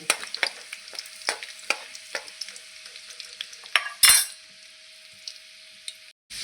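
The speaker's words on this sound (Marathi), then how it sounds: "असा लसूण छान लाल रंगावरती परतून घेतला" Garlic sautéing in oil for a fenugreek leaf dish, a soft steady sizzle broken by sharp clinks and scrapes of a spoon stirring the pan, one louder rattling burst near the end, no voices.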